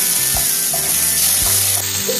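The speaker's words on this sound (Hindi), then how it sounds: "प्याज को हमें ट्रांसपेरेंट होने तक फ्राई कर लेना है" Onion, ginger, garlic and chopped tomatoes frying in a pan for paneer angara, giving a steady loud sizzle with faint clicks and scraping, and no voices.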